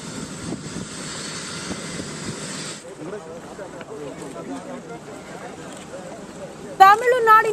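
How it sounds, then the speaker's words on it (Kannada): Helicopter arriving at Kumbakonam in Tamil Nadu for a political leader's visit, a steady rotor and engine roar with wind filling the first few seconds, then fading as voices and crowd chatter take over, with a sharp shout near the end. "ತಮಿಳುನಾಡಿನ ಕುಂಭಕೋಣಂಗೆ ಹೆಲಿಕಾಪ್ಟರ್ ಮೂಲಕ ಡಿಸಿಎಂ ಡಿಕೆ ಶಿವಕುಮಾರ್ ಅವರು ಹೋದ್ರು."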